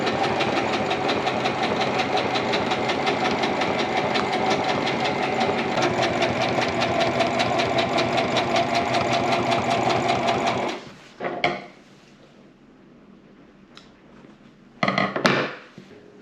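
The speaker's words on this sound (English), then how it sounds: "I'm going to come back and stitch another line close to this one so that it'll make a little tunnel for the rod" Sewing machine stitching a second line on headliner fabric to form a rod tunnel for a 1940 Chevy truck interior, running steadily and loud for about eleven seconds, then stopping, with two brief bursts of stitching afterward.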